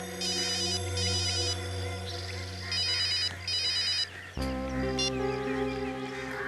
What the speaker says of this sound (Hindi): वो दोनों मेरा फोन कॉल रिसीव क्यों नहीं कर रहे हैं।